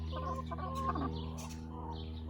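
Chickens cluck and murmur softly nearby over a low steady hum, a brief burst of louder clucking rising in the middle.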